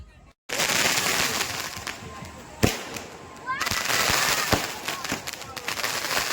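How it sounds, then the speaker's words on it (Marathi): Fireworks burst loudly during a crowded Ganesh immersion procession at a riverside ghat, with a dense, continuous crackle of firecrackers, a few sharp louder bangs and one rising whistle, all close by after a brief silent start. "ही आकर्षक नेत्रदीपक फटाक्यांची आतषबाजी बघा, एकदम सुंदर."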